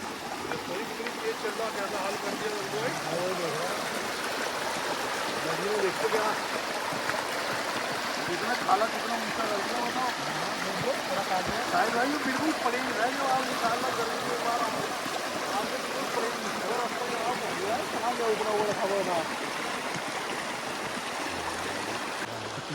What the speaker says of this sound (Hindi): ये देखो पानी की आवाज़ सुनो।